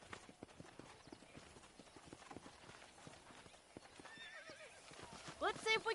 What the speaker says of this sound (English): Breaking in horses.